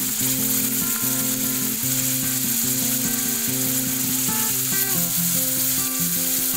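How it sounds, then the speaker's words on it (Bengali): Chicken pieces fry in hot oil in a wok, giving a steady, loud sizzle that runs the whole time, with faint clinks of stirring near the end. "আমি একটি কড়াইয়ে তেল দিয়ে এর মধ্যে চিকেনগুলো দিয়ে দিলাম।"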